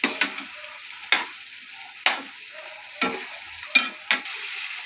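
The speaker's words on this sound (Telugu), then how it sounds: "అంతా మిక్స్ అయ్యేటట్టు కలబెట్టాలి బాగా." Chicken coated with spices, pepper and coriander powder is stirred in a pan for a pepper fry, with a soft continuous sizzle broken by five or six sharp scraping strokes about a second apart, close up and without talk.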